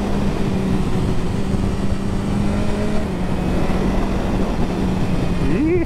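A 1000cc super naked motorcycle rides a twisty road on wet tyres, its engine a loud, steady droning roar with slight shifts in pitch and a rising rev at the very end, with no voices.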